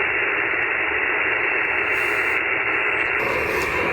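Ham radio portable receiver tuned to the 10 meter band produces a steady, loud wash of static hiss throughout, with no voice or signal standing out.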